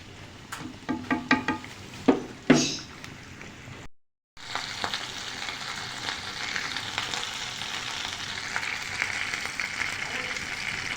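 Chicken cheese rolls frying in a pan over a low flame give a soft, steady sizzle with a few louder crackles early on, then a brief gap before the even hiss resumes.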